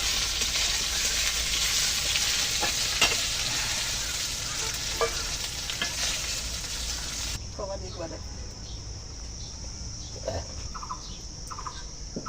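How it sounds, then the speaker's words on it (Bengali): Small puti fish fry in hot oil in a wok, giving a loud, steady sizzle that runs throughout and drops somewhat in level partway through. "মাছগুলো কিন্তু ভালো করে ভেজে নিলাম, এখন তুলে নেব।"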